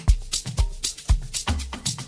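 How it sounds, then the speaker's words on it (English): Wooden percussion hits in an Afro House beat, sharp dry knocks recurring in a steady syncopated pattern over deep kick thumps, loud and close with no voices. "And I added some percussions like these."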